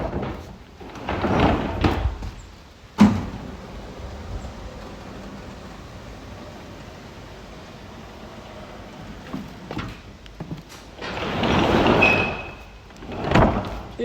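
Rear door of a 2017 Ford Transit 2.0 TDCI Luton van being worked: a rolling slide, a sharp bang, then further rattling slides and a final clunk, close and loud.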